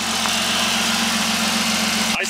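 Factory turbo Barra engine in a Ford Falcon idling nearby, a steady low rumble with a constant hum and faint mechanical whine, cutting off abruptly near the end.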